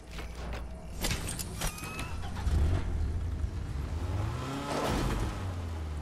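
Car engine in the Fortnite video game, a steady low rumble running throughout with some brief clicks and a swelling whoosh near the end, no talk.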